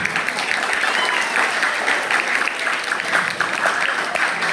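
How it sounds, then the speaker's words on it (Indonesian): A crowd applauding steadily throughout at a school anti-delinquency outreach event, dense clapping with no breaks, moderately loud and even. "Tepuk tangan."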